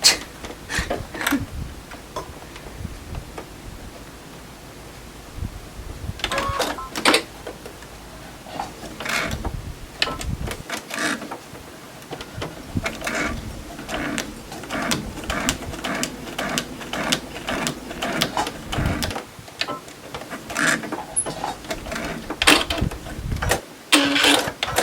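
A sewing machine stitches a seam on a criss-cross quilt block, running in short, fast mechanical bursts with brief pauses between them, close and fairly steady in level.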